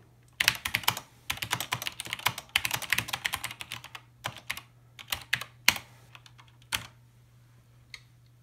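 Rapid bursts of keystrokes typed on the keyboard of a vintage SWTPC 6800 computer, close and clear, with short pauses between runs of key clicks and no talking.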